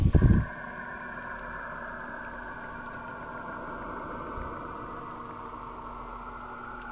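Eerie sonified recording of the planet Saturn: a steady droning hum with sustained tonal bands and a low rumble, beginning with a brief loud burst and then holding an even, continuous level throughout.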